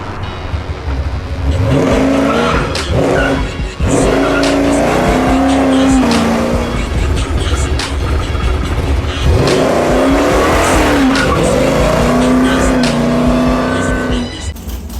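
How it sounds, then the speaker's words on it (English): Car with a big-block 505 V8 engine, loud and close, rumbling with a choppy cammed idle and rising revs, engine sound dominant throughout with little else audible. "Ain't nothing like the idle sound of a big block with its camming and chopping."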